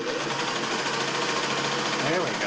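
A Singer 600E sewing machine stitches in a steady, fast mechanical whir with a buzzing motor hum, close and continuous, while a person talks over it.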